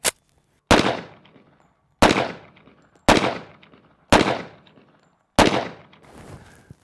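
Six loud, sharp gunshots from an AF2011-A1 double-barrel 1911 pistol crack at roughly one-second intervals, each followed by a brief decaying echo.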